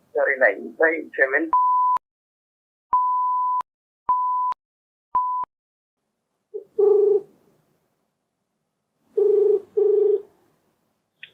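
A phone call rings out as a repeated electronic ringback tone in four evenly spaced steady beeps. Voices talk briefly before the tones and again after them.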